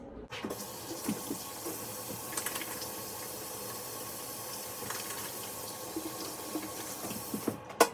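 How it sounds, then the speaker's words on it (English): A kitchen tap runs steadily for handwashing before cooking dinner, a continuous close rush of water with small splashes and clicks over about eight seconds, and no one talks. "let's get started and wash our hands first"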